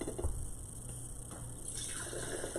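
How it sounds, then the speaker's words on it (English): Liquid trickles and splashes steadily through a fine mesh strainer set in a funnel, a soft continuous pouring sound close by with faint hum underneath. "so then you strain it. So we just have a fine mesh strainer in a funnel"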